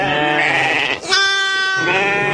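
Sheep in a flock at a stone-walled pen in the Atlas mountains bleat loudly and close by, with overlapping wavering cries running almost continuously.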